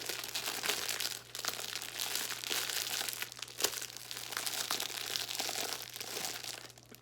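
Thin crinkly plastic packaging from a Dollar Tree haul item is handled and pried open, giving a steady run of close, dense crackling and crumpling for several seconds with no talking.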